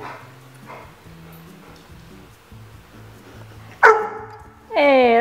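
A pit bull gives two sharp, loud barks close to the mic near the end, after a stretch of quiet low murmuring and soft vocal sounds.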